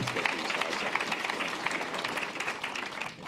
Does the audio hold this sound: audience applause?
yes